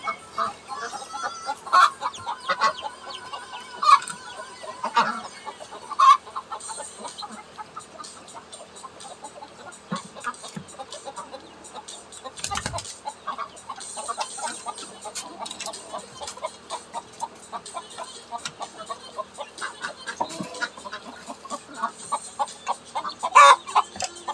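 Many chickens cluck and squawk continuously in a close, enclosed space, with frequent sharp calls rising over a busy, steady chatter.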